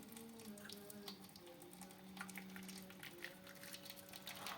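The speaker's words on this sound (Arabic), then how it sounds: "حطيت الميه السخنه اهي" Hot water poured into a container while making homemade yogurt in a home kitchen, a steady close splashing trickle running on without a break, with faint tonal hum underneath.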